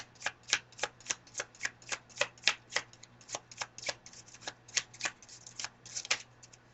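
A deck of tarot cards is shuffled near the mic, a quick run of about two dozen crisp riffle-like flicks in a steady rhythm with no talking.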